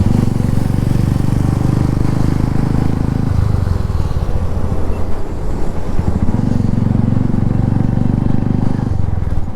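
Royal Enfield Hunter 350 cafe racer fitted with an SC Project exhaust, ridden along a green countryside road, giving a loud, steady low engine drone throughout with no pauses.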